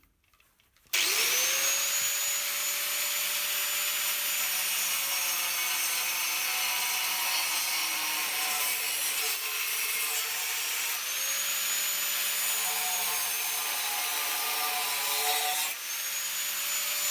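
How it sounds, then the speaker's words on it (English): An angle grinder cuts through the front mudguard of a Yamaha XVS 650 bobber build, a loud steady whine that starts abruptly and runs continuously for over fifteen seconds with slight pitch dips as the disc loads up. "So it's coming off and the grinder's coming out."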